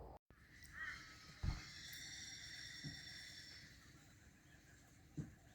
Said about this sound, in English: Birds going off this morning.